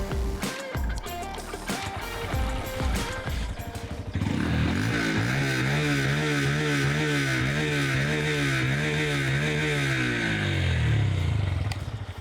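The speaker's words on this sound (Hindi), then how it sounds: "एग्जॉस्ट टेल जो है वो भी काफ़ी चंकी सा है, सुनाता हूँ मैं आपको उसकी आवाज़ कैसी है।" Honda CB125 Hornet motorcycle exhaust idling then revving steadily, a loud close engine note with rising and falling pitch sustained for several seconds after a brief stretch of handling noise.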